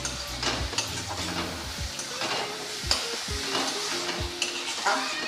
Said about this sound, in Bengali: পেঁয়াজ রসুনটা ভেজে নিয়ে দিচ্ছি টমেটো কুচি, একটু নুন।